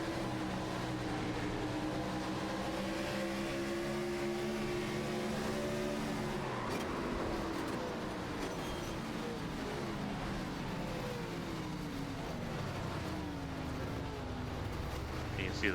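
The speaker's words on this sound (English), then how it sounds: "You can hear the bodywork dragging on the ground as well." Damaged stock-car bodywork drags and scrapes along the ground during a 2005 NASCAR Cup race at Watkins Glen, mixed with loud, continuous engine roar and shifting revs, while a commentator talks over it.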